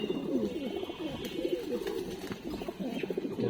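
A red chequer cock racing pigeon from a BRPL club, long-distance stock, gives repeated soft low cooing phrases, close and gentle, alone over quiet background.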